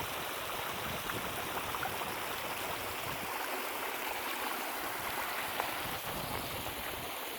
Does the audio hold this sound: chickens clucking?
no